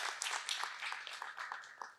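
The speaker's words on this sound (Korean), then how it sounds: "박수 한번 또 부탁드리겠습니다." Audience applause at a Korean economics talk show on asset markets, a steady patter of many hands clapping across two seconds, fairly faint and slightly distant, with no talk over it.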